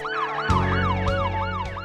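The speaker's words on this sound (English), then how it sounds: "the sounds of sirens tells a story too many families know" A loud emergency siren wails in a fast, repeating up-and-down pattern, with a second rapid yelping tone cutting in over it.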